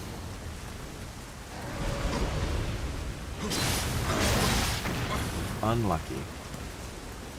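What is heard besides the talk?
rain in the video game Nioh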